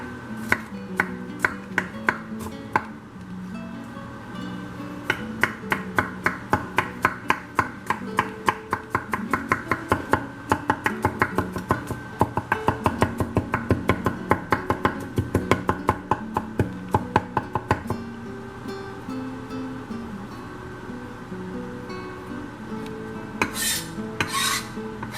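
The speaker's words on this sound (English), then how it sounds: "And now to mince the garlic." A knife minces garlic on a cutting board, making fast, rhythmic taps at close range, first a few scattered strokes, then a long dense run, then slower scraping near the end.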